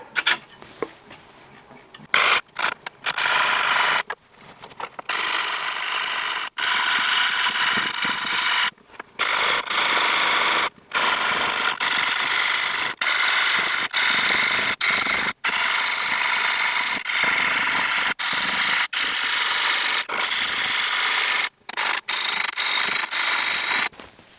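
A 5/8 inch bowl gouge cuts into a wooden bowl spinning on a lathe at a slow 250 RPM, giving a loud, steady rasping scrape that runs almost continuously with a few brief pauses as the tool lifts away.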